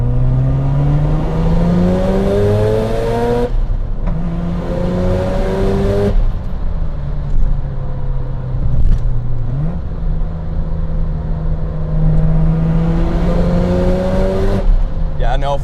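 A Mazda FD RX-7 rotary engine pulls hard in second gear, its loud buzzing note climbing steadily in pitch with shift-like breaks and rising sweeps, heard close from inside the car with some talk underneath.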